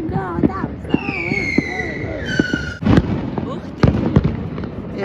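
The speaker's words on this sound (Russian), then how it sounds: "там какой салют" New Year fireworks crackle and pop outdoors, with whistling rising streaks and sharp bangs scattered through, while people talk nearby.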